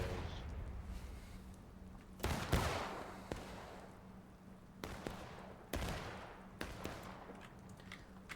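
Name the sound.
musket gunfire in War of Rights video game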